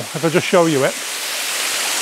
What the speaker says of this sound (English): what we're looking at now is the waterfall on a wide angle